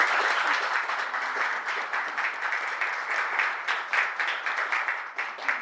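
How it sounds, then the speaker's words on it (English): Audience applause for the speakers at a community event on partnering with local tribes, a steady wash of many hands clapping that fills the room evenly from start to finish, with no voices standing out. "Let's give our speakers a round of applause."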